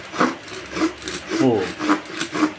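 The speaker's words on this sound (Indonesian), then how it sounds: "Makanya awal menggergaji ini tarik dulu, simpan di sini, tarik, terus depan tarik." A folding hand saw cuts through bamboo wood with steady, rhythmic rasping strokes, close and fairly loud, while a voice speaks briefly in the background.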